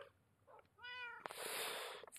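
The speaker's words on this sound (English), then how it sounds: "4 cats!" Cats meow in a game: one clear rising-and-falling meow, then a brighter, louder burst of sound, close and with no talking.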